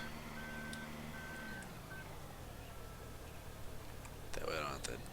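A truck in Farming Simulator 2013 sounds repeated reversing beeps over a low engine rumble for about two seconds. The engine keeps running on its own, with a brief burst of clicking near the end.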